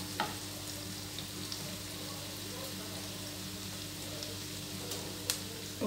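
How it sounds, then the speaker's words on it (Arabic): Onion frying in a pan until softened makes a soft, steady sizzle at low level, with a few faint clicks of stirring and no speech over it. "نخليو هاد البصلة تفور حتى تيدبلو مزيان ديال تاعو"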